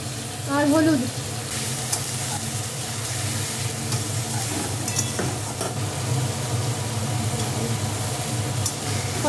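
Fish heads sautéing with salt and turmeric in a pan, a loud, dense, continuous sizzle with scattered stirring scrapes, close up, with a brief tonal squeal near the start.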